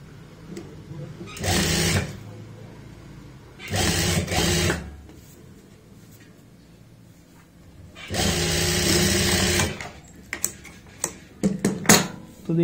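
A sewing machine stitches a blouse over pearls in three distinct runs, each a close, steady whirring burst. Quieter gaps between runs carry small clicks and fabric handling.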